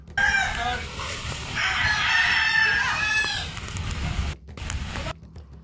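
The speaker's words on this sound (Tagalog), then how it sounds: "Manok, ang manok." A rooster crows in a flood-hit village, one long, loud call partway through against steady outdoor noise, with faint voices in the background.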